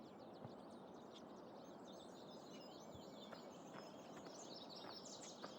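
Birds sing in the Farming Simulator 17 video game, with many small chirps and tweets scattered over a soft, steady ambient hiss. The calls are faint and distant, with no talking.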